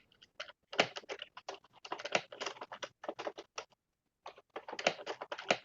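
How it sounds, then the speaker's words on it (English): Rapid clacking keystrokes on a computer keyboard in bursts, pausing briefly before resuming, fairly close and moderately loud with no talk. "I'm turning off someone's keyboard, clack-a-lackin'."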